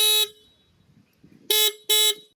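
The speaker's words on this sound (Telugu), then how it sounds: "సో ఇప్పుడు మీకు హారన్ సౌండ్ వినిపిస్తాను." The horn of a Yezdi Adventure motorcycle gives three sharp, bright electric beeps, one short blast and then two quick ones after a pause. It sounds loud and close, with faint handling noise between the blasts.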